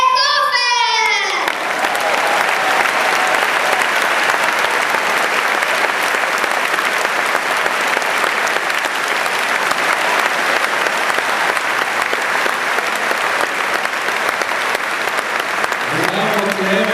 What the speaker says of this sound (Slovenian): to je bil tvoj aplavz